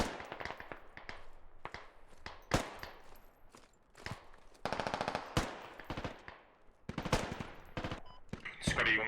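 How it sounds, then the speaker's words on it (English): Rapid bursts of machine gun fire in the video game Squad, some close and sharp, others farther off, with scattered single shots and rattling volleys spread across the stretch, and voices talking underneath. "Just fucking brass it with a machine gun or something."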